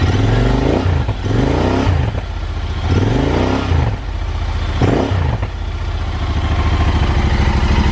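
A Royal Enfield Interceptor 650 fitted with an AEW exhaust and dB killers revs to around 4000 RPM in four sharp blips, each dropping back to a throbbing, burbling idle, loud and close.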